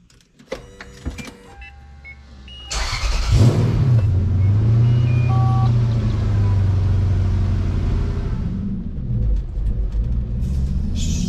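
Lexus GS400 engine after a manual transmission swap: clicks and mechanical clatter, then the engine cranks and catches into a loud, steady idle rumble that carries on for several seconds.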